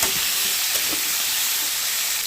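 Potato curry in a pan hissing and sizzling steadily as hot water is poured in, a loud continuous broadband steam hiss with no talking.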